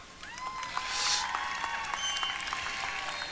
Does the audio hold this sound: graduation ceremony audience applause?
yes